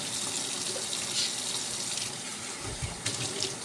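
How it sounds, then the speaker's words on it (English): Water runs from a refrigerator dispenser into a parrot's water bowl, a steady close hiss of pouring water with no talking. "And then I fill the water from the fridge."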